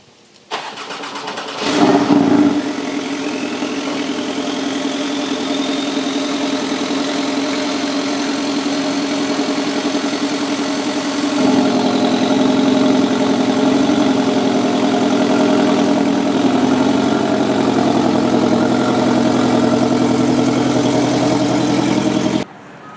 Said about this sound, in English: I'm about to pull out my car and I'll show you guys